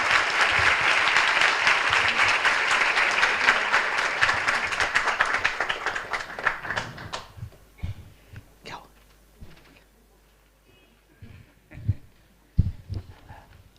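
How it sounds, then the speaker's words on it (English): Audience applause in a large gathering at an ISKCON temple program in Mumbai, sustained dense clapping that fades out over several seconds into scattered claps and a few coughs. "today he has to receive the claps once more"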